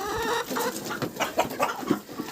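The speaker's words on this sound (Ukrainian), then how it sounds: "А, квочка, квочка, чули?" A broody hen clucks repeatedly in low, throaty bursts, close by, with faint farmyard background noise.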